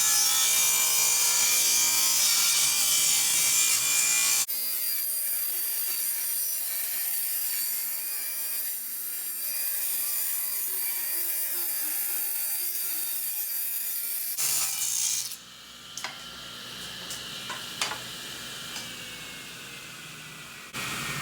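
A saw trims the factory-rounded edge off a scrap 2x4, giving a steady, fairly loud cutting drone that runs for several seconds, then drops away into quieter scraping and handling clatter.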